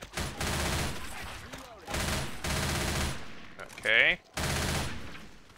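Bursts of gunfire at a mud-covered zombie in a swamp in Left 4 Dead 2, several sharp rapid volleys separated by short pauses, with a brief spoken word in between.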